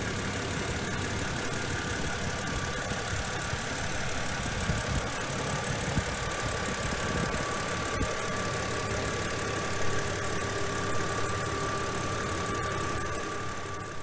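A BMW Z4 Sport 2.5 roadster in bright red with a smooth 2.5-litre engine idling, a steady low hum with a faint constant whine, even and unbroken throughout, no speech.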